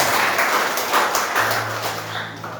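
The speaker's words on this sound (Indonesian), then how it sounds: "Boleh berikan tepuk tangan buat Tuhan." A church congregation claps during a worship service, a steady wash of applause lasting the whole moment at a fairly loud level, with a low hum coming in partway through.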